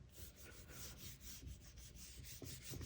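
Firm, rhythmic rubbing of a paper stencil pressed onto a Gelli plate, a soft close scratchy swishing repeated in quick strokes, quiet and alone.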